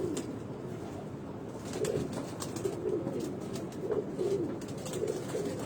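A pigeon in a fancier's loft coos in a soft, repeated throaty rhythm, several calls close by over a steady murmur of other birds, without talk.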